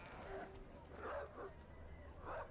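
A dog in the video game The Witcher 3 barks several times, faint and somewhat distant, in short yips spaced across a quiet ambient game background.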